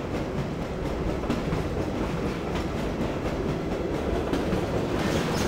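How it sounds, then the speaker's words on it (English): A train in the video game Half-Life rolls along with a continuous dense rumble and clatter, steady and fairly loud throughout, with no voices. "This is a train."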